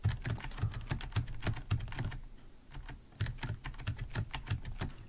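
Computer keyboard keys tapped over and over, as the Control B shortcut is pressed repeatedly while cutting clips in DaVinci Resolve 19; close, crisp clicks in a steady rhythm with a short pause midway, and no voices.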